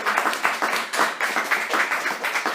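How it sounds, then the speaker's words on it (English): Audience applause after a philosophical poetry reading at the Athens Academy, steady rhythmic clapping from a small indoor crowd, close and lively throughout. "The applause of your audience was so sincere."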